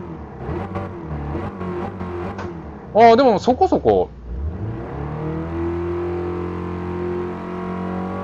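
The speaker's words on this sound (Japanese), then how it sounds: "ちょっと一旦ね、エンジン吹かします。" A Toyota Sports 800 engine in the video game Gran Turismo Sport revs in several sharp bursts, then drops to a low idle hum, with a person speaking briefly beforehand.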